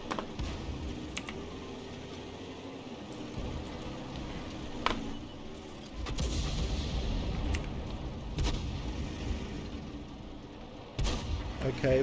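Artillery fire in a USA tech tree sandbox war game, with dull low booms and broadband blasts recurring over a steady rumbling battle bed, the loudest bursts near the middle and end.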